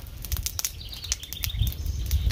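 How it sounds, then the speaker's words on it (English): Raindrops patter outdoors around a bush campfire, scattered taps of varying strength over a low rumble, with faint bird chirps in the background. "Raindrops."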